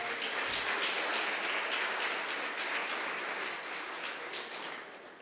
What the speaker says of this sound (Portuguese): Você pode aplaudir o Deus eterno?